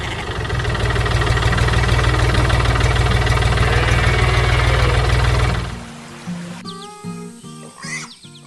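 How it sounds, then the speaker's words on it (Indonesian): A loud, steady red farm tractor engine roars for several seconds, then cuts off abruptly, leaving quieter rustling and a few faint whistling sounds. "Suara mesinnya menggelegar, menggerakkan petani untuk bekerja dengan semangat."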